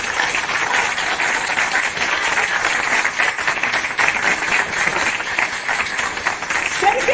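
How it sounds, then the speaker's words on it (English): Dense, steady audience applause runs throughout, fairly loud and continuous, with faint voices underneath. "applause till the end."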